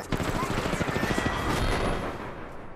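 Rapid gunfire in the Apex Legends battle royale game, a dense, loud burst of repeated shots mixed with booming impacts, with a voice speaking over it.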